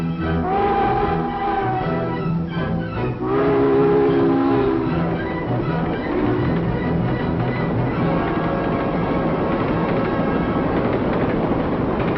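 A train rumbles past at close range, a steady loud mechanical roar with rhythmic clatter that holds throughout.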